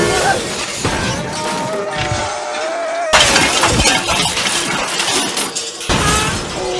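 Animated car crash with glass shattering and breaking, loud crunching smashes arriving in repeated bursts, with people talking and exclaiming over them.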